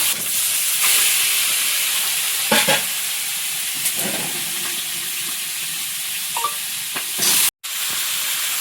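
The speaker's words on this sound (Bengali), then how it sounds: "কড়াই আর একটু তেল দিয়েছি, একটু কালো জিরে আর পেঁয়াজ কুচি আর আদা রসুন বাটা।" Chopped onion, nigella seeds and ginger-garlic paste fry in oil in a kadai, giving a loud steady sizzle and hiss with a few sharp stirring scrapes and clinks throughout.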